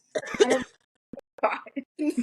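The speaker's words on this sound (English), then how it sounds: "Now you coughing." A person coughs, a few rough bursts separated by short pauses, close and fairly loud, with brief vocal sounds between them.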